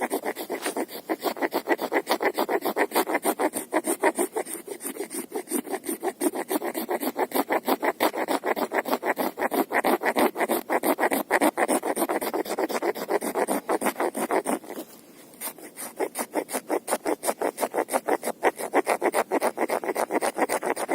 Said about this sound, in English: So let's make a bit more shavings.